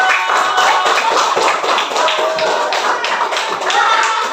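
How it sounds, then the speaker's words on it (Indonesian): A classroom group of students claps hands together in a dense, continuous patter for several seconds, loud and close, with faint children's voices mixed underneath. "kasih tepuk tangan dulu."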